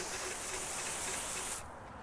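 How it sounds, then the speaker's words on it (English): An acid chrome and aluminum wheel cleaner is sprayed onto a car wheel, giving a close, steady hiss of spray for about a second and a half before it cuts off to quiet. "take your acid, spray it on the wheel from the bottom up"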